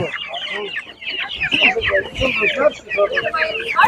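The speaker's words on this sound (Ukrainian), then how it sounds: "І є також, вже курчата." Chickens and chicks clucking and squawking in a busy, continuous chorus nearby at a Ukrainian village animal market, with a voice talking intermittently over the flock.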